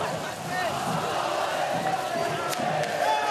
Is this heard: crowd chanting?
yes